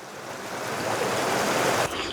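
A creek in Monrovian Canyon near Monroe, Utah, flows steadily below a bridge, a broad, continuous rushing wash that swells slightly and then dips near the end, with no voices.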